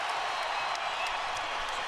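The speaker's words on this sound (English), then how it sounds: "This crowd is sky high. They're on their feet." Basketball arena crowd on its feet during a playoff game, a dense, steady roar of cheering and applause that fills the space without a break.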